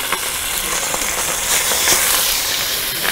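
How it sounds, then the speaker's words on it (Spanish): Fish frying in hot lard gives a steady, loud, broadband sizzle with scattered crackles and pops, close up and uninterrupted throughout. "vamos a freír el pescado porque se nos va a calentar la manteca y se nos va a quemar"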